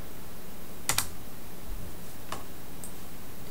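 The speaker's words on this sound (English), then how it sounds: "So I'm just typing in Cert Manager" A handful of sharp key clicks on a computer keyboard, a quick pair near the start followed by two more isolated taps, faint and close against a quiet room hiss.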